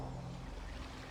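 Ocean waves wash in a steady, soft, continuous surf in the video game Genshin Impact, with no voices over it.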